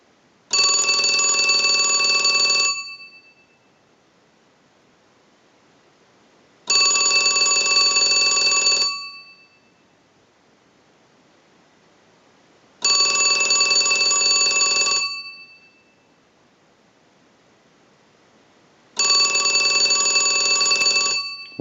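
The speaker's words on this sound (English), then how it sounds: "use the analyzer and send a ring cycle like you were getting a call" A Disney Mickey Mouse telephone rings in four separate bursts of about two seconds each, spaced evenly by roughly four seconds of silence, as a test ring cycle is sent from a line analyzer; clear and close with no talking.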